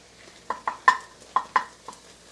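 Tomato paste and garlic cooking in a Ninja Foodi pan, heard as a handful of light scraping stirs and clinks in irregular rhythm over a faint background sizzle, close and fairly quiet.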